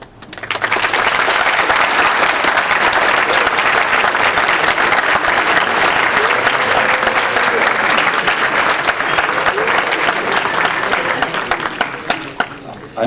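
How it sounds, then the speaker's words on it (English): An audience at a conference lecture breaks into loud, sustained applause that swells quickly and holds steady, dense clapping with no talk over it, fading only at the very end. "I'm quite nervous when people applaud me"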